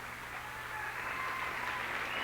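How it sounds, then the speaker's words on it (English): Audience at a 1982 televised talent show applauding after a performance, a steady, fairly faint wash of clapping that holds evenly throughout. "How about a nice round of applause?"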